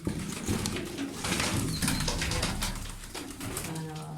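Pigeons coo softly in low, rolling calls, mixed with background chatter and rustling nearby.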